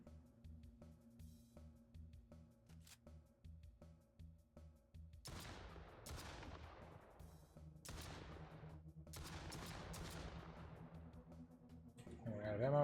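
Video game gunfire from Operation Titan, single-player mode: a few distant-sounding clicks early on, then a series of loud bursts with long ringing decays that come close together, over a steady game hum.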